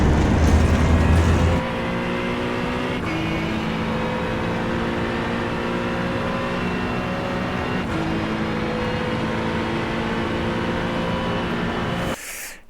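Acura GT3 Evo race car lapping Road America in iRacing, its engine droning steadily through long pulls with shifts at regular intervals, loud and close throughout, with no talk.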